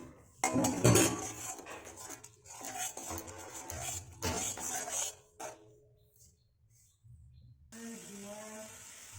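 A spice paste of dry red chilli powder, cumin powder, salt and turmeric is sautéed in a pan for a fish curry: bursts of scraping and stirring with utensil clinks, separated by short pauses, close up and moderately quiet.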